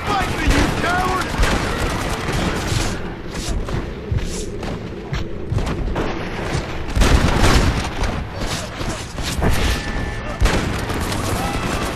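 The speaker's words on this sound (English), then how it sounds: "he's got a turret in the back of that stagecoach" A stagecoach-mounted turret firing in Red Dead Redemption, a dense, continuous barrage of heavy gunfire and thuds with booming impacts, loud and sustained throughout, with other shots and game noise mixed in.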